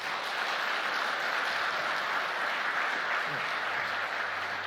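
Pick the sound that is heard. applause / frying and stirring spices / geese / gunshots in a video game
applause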